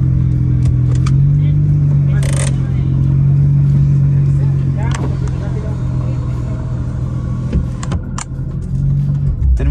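An exotic car's engine idles and revs in broad daylight, a loud, steady low rumble throughout with brief rises and clatter, voices talking over it.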